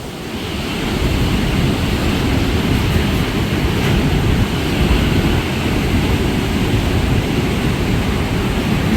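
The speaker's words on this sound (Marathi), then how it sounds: "जाम एकदम मोठ्या मोठ्या लाटा येतात" Big monsoon sea waves crash and roar at Anjarle beach in a continuous loud surge, with heavy wind buffeting the microphone and no voices.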